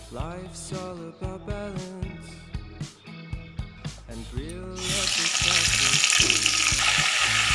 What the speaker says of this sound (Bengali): একই তেলে আমি মাছের মাথাগুলোকে ভেজে নেবো ভালো করে